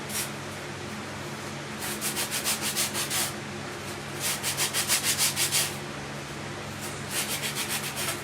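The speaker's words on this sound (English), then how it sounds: "We're going to sand the edges off." Rhythmic rasping strokes of sandpaper wrapped on a sanding block, sanding wood edges, come in short bursts of quick back-and-forth rubbing, close and fairly loud, with brief pauses between sets.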